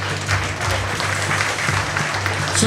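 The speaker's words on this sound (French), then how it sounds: "Une bonne main d'applaudissement pour les gens de Lévico Hyundai" An audience applauds at a team presentation evening for the Léviko Hyundai players, a dense, even patter of many hands clapping throughout, with a low hum beneath.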